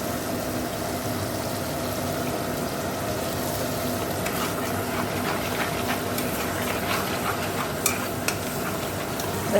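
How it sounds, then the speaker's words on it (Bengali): Masala with ground coriander and a little sugar is stirred and fried, a dense steady sizzle under scraping stir strokes with a low background hum, no talking. "ভালো করে মশলাটা কষে নেবো"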